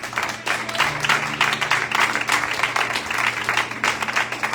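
A church congregation breaks into sustained, dense applause that runs steadily from start to finish, with many hands clapping together and no voices on top.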